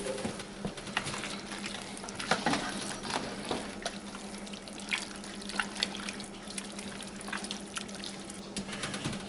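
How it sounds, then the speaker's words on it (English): Canned diced tomatoes with their juice pour into a chili pot on the stovetop, a continuous wet splashing and glugging with a few louder plops and drips throughout. "Add the diced tomatoes with the juice."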